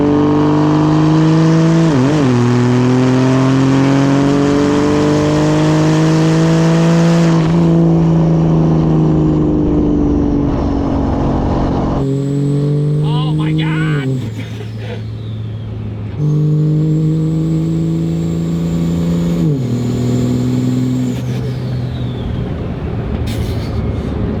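A loud truck engine in a video game revs and climbs through gears repeatedly, pitch rising then dropping at each shift, with abrupt cuts between bursts of synthetic engine noise.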